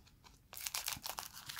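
Scissors snipping and tearing open a Pokémon XY Evolutions booster pack: a quiet pause, then a close cluster of crisp crinkly cuts and rustling foil wrapper.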